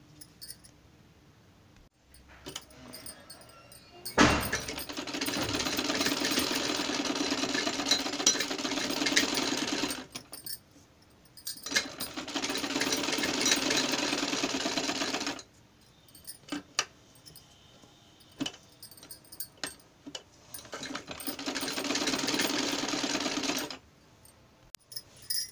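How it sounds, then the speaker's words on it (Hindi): A sewing machine runs stitches along the edges of buckram while a glass-shape kurti neck is being made. Three steady whirring runs of several seconds each are separated by short quiet pauses, fairly close and with no talk. "यहाँ पर हम बुकरम के ऊपर किनारे किनारे सिलाई लगा लेंगे"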